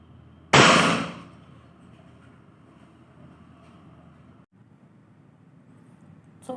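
An air rifle fires a dieseling JSB 7.3 grain RS pellet, giving one sharp, loud crack that fades over about half a second, then a faint background hum and a small click near the end.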